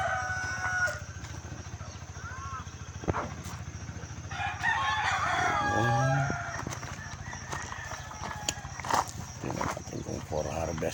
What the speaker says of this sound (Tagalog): Yan ang mga manok nakawala na.